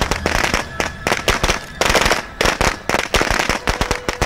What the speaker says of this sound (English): Throw some fireworks.